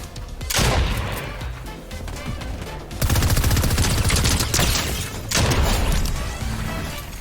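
Fortnite gunfire in rapid bursts, with dense automatic fire and sharp shots in loud clusters separated by short gaps.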